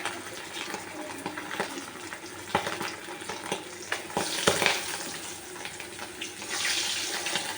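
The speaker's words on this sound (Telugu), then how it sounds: "ఎండు చేపలు ఒక సైడ్ కాలని, తోక చేపలు రెండో సైడ్ కాలుతున్నాం" Dried fish, including tail pieces, fry in a hot pan with a steady close sizzle and scattered crackles and pops, and the sizzle grows louder as the fish is turned.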